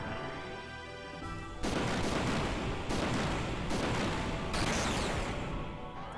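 Gunfire from a character's gun attack in the Xenogears video game, sounding as dense, loud repeated bursts of shots in several sustained waves over background game music, with no talking.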